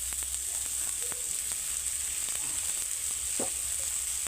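Mustard oil sizzles steadily in a pan for chicken kosha, a bright continuous hiss with scattered small pops and crackles, heard close without any talk.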